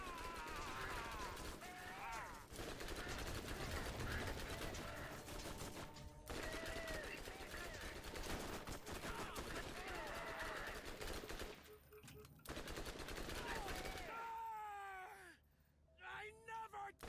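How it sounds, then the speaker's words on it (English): Rapid automatic gunfire in Borderlands rattles almost continuously, with bursts broken by short pauses while game voices and cries come through. "Trying to shoot over his turret shield, just so I can try to shoot him."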